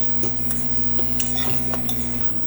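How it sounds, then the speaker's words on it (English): A spoon stirring Pomona's pectin into dry sugar in a bowl, with rhythmic scraping and light clinks of the utensil against the bowl, close and steady over a low background hum. "we mix our Pomona's pectin into the sugar"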